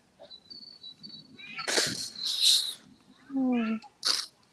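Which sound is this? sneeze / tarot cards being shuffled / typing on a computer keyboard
sneeze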